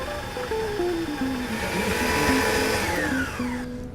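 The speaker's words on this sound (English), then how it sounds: "I'm going to start off our dessert with the Waring tabletop mixer" A Waring tabletop stand mixer creams butter with confectionery sugar, its motor whirring loudly and steadily, with the pitch dipping and rising as the beater works the thick mixture, close and alone without any talk.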